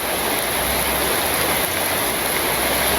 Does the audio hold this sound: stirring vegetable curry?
no